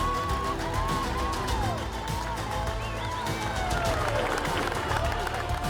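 A crowd cheers and whoops at a competition stop in St. Pete, a continuous loud roar of many voices with rising shouts and whistles, sustained throughout.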